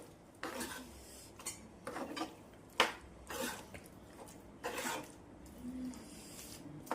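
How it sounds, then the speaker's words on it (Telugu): Gongura chicken fry being stirred in a pot with a metal spoon, a few soft scrapes and clinks at an unsteady pace, then a sharper clank as a lid is set on, all fairly quiet. "ఇవన్నీ మళ్ళీ బాగా ఒకసారి కలిపి మూత పెట్టేసి మగ్గ పెట్టేద్దాం"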